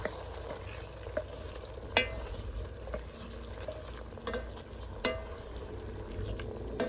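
Johnny Marzetti meat sauce with Italian seasoning and garlic sautéing in a pan, giving a soft, steady sizzle with a few light utensil clinks at intervals and no talking.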